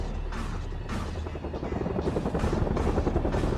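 A military helicopter in World in Conflict thrums with a steady, loud rotor chop, rhythmic blade pulses over a rumbling low drone, persisting throughout without talk.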